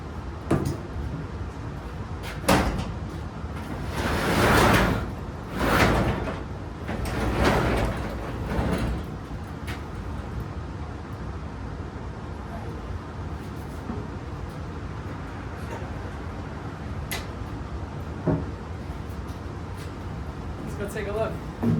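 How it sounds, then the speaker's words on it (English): A garage door is opened on a cold day with a 1969 Camaro inside, giving a few loud rumbling, sliding bursts early on, then quieter background noise as a person talks. "I hate opening this door, it's so cold out."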